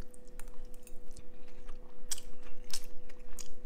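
Someone eats pasta with a crunchy breadcrumb topping. Close, quiet chewing comes with a few sharp crunches spaced irregularly over a soft background hum.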